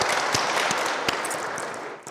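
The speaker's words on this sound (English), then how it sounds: "Please, a round of applause one more time for her." An audience at a church young professionals' convention applauds Professor Marion after a panel discussion: a steady wash of many hands clapping with a few sharper claps standing out, tapering off toward the end.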